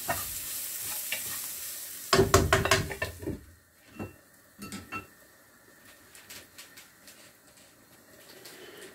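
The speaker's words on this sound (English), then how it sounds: "So we just cook that over just for a minute or two, just to cook all the spices" Ground spices, cloves and anise among them, frying in a pan for a vegan aubergine curry. A loud burst of scraping stirring gives way to a quieter sizzle with scattered utensil clinks against the pan.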